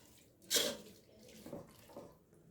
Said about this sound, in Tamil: அப்போ நம்ம தண்ணி ஊற்றணும்.